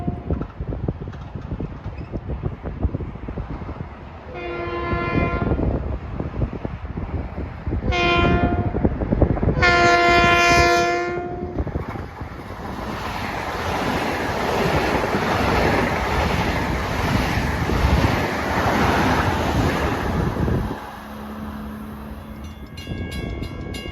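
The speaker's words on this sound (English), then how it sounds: "Here comes train 1058, Grand Central to Brentwood" Electric LIRR M7 commuter train passing at speed at Pinelawn on its Grand Central to Brentwood run, horn blasts sounding in short bursts, then a long loud rush of wheels and rail noise that fades near the end.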